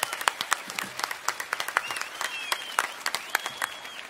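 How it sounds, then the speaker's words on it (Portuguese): Applause from a live audience at an acoustic sertanejo show, crisp individual claps sounding close and in quick succession over a crowd, with whistles and whoops laced through. "Tem que sair com palmas esse homem."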